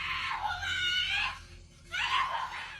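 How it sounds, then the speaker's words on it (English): A person screams at a door, two strained, high-pitched cries separated by a short pause, muffled and moderately distant. "Someone can be heard screaming for help,"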